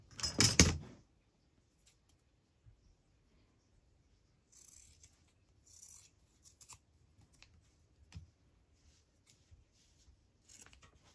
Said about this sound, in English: maybe I'll just cut a strip.